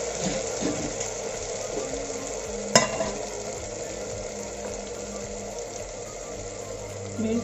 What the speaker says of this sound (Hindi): मिर्ची प्याज भून के इसमें थोड़ा सा इसमें डाल देते हैं टमाटर